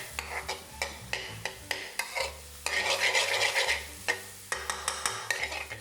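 Onions salted and caramelising in a pan sizzle steadily while a utensil scrapes and taps against the metal in quick, regular stirring strokes, with a louder, denser sizzle burst midway; close and clear, no talking.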